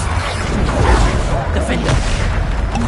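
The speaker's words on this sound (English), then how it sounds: "Bombarda!" Bombarda explosion spell cast in Hogwarts Legacy, a loud booming blast filling the clip amid combat noise, with a voice shouting over it.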